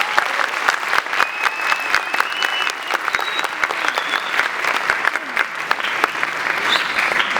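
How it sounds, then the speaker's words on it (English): Round of applause from the audience at a model UN opening ceremony, thanking Friends School faculty and administration; sharp individual claps stand out within steady, fairly close clapping that stays even throughout. "Please join me in a round of applause to thank faculty and administration of the Friends School"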